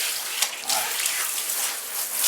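Shower water spraying into a bathtub while a Swiss Shepherd dog is washed, a steady bright hissing splash close by with small splashy bumps, no voices.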